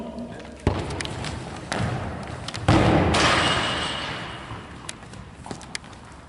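A football is kicked towards goal during a skills drill, giving a couple of sharp outdoor thuds, the louder one near the middle, against a steady wind-like background with faint distant sounds.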